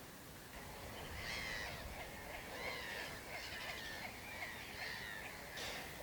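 Two great crested grebes call near a reed-fringed spot behind a fence, giving repeated harsh, chattering bursts that rise and fall over a steady outdoor background hiss.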